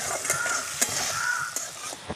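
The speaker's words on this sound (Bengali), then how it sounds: "টমেটো কুচি দিয়ে আবারও কিছুক্ষণ ভেজে নেব।" Onion and chopped tomato fry in a hot pan for a Bengali chital fish curry, giving a steady close sizzle broken by a few sharp clinks of stirring.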